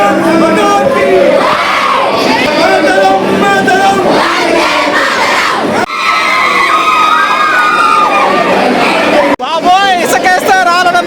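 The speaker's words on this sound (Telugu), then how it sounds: "బాబోయ్ ఇసుకేస్తే రాలనంత మంది జనం అసలు నడవలేకపోతున్నాం." A dense crowd cheers and shouts for the inaugural run of the Narasapur to Chennai Vande Bharat Express, loud and continuous, with children's high voices, whoops and overlapping chatter close around.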